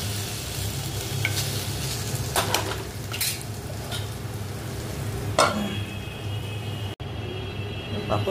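Potatoes frying in a pan on an induction cooktop, a soft continuous sizzle broken by scraping stirs and occasional utensil clinks against the pan, close by with a low background hum.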